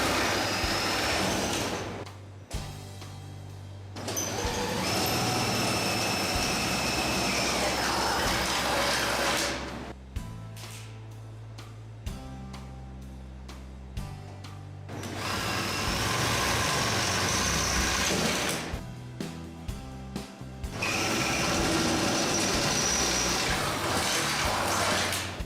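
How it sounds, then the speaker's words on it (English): A power drill with a 1/8 inch bit whines in several long bursts drilling pilot holes for a motor mount, steady high-pitched motor spin with brief pauses between, loud and close. "drill the pilot holes with a 1/8 inch bit"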